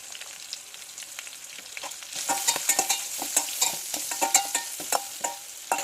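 Curry leaves and turmeric frying in hot oil for an aloo besan tomato curry, a crackling hiss punctuated by a quick run of close spoon scrapes and stirring clicks that grow louder after the first couple of seconds, no talk.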